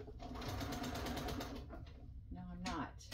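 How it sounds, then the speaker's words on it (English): A sewing machine runs a rapid, steady burst of stitches across a bookpage tag, then slows to a few creaking mechanical clicks, heard up close and fairly loud. "I'm gonna stitch across this."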